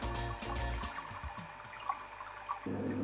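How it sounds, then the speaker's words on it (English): Sparge water flows continuously into the malt pipe of a home beer-brewing setup. Flow control keeps it as a soft, steady trickle over a low equipment hum, with faint drips and no talk. "So I'll just adjust the flow control and keep the water inside the malt pipe."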